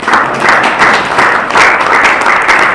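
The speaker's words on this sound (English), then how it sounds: "Can we give him a round of applause?" Loud, sustained applause from an audience at a speech launching an autism commission report, dense clapping that swells in waves and fills the whole stretch without a break.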